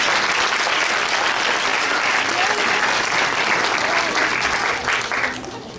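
An audience at a national Kathak dance competition claps in thick, sustained applause for the contestants, loud and even throughout before tapering off at the very end.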